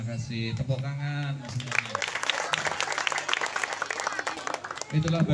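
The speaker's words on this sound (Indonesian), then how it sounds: "terima kasih, tepuk tangan" An audience at an Islamic religious lecture breaks into a sustained burst of crowd applause, lively and close, after a voice speaks; his talking resumes over the tail of the clapping at the end.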